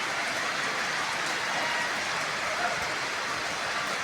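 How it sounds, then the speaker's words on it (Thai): Steady morning rain falling outdoors near a market, a constant broadband hiss that holds at even loudness with no distinct drops or voices. "มื้อนี้ฝนตกห้ำใจเศร้าเลย"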